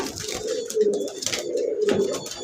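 Pigeons at a pigeon farm coo repeatedly in soft, rhythmic rolling calls, several overlapping phrases close by, with faint background noise.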